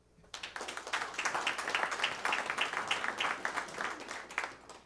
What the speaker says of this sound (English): All right, real quick, round of applause.